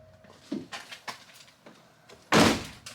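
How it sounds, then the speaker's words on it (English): Doors of a Chevrolet Spark being shut, a few quiet thumps followed by one loud, close slam near the end, with no talk. "We're gonna shut these doors."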